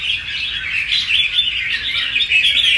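Wild-caught birds from the limestone mountains of Lạng Sơn calling during a fight, a dense, continuous high chirping and warbling song that stays close and steady throughout, with no talking.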